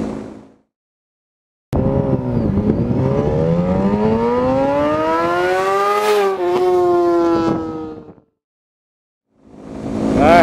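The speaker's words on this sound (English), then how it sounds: "here's the flyby of the new bike" A new motorcycle flies past, its engine note rising as it approaches and revs, then falling away as it passes, loud and close, with quiet gaps before and after.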